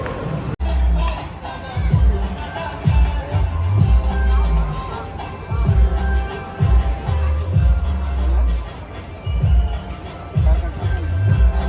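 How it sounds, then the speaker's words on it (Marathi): A dense crowd fills a busy Nagpur restaurant on Mother's Day, with steady overlapping chatter, low murmuring and occasional shouts of children rising and falling throughout. "नागपूरला गर्दी खूप आहे नागपूरमध्ये"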